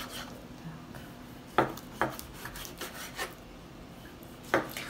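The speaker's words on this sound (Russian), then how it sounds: "мясо я нарезаю где-то примерно на сантиметр толщиной" A knife slices through meat, cutting pieces about a centimetre thick, giving a few short rasping strokes at irregular intervals against a quiet kitchen background, with no talking.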